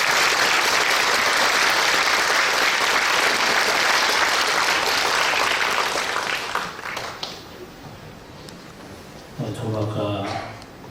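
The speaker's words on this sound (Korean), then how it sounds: "우리 박수로 환영하겠습니다." Loud, sustained applause from a church congregation at a dedication service fills the room, then fades out, leaving a few voices talking in the quiet that follows.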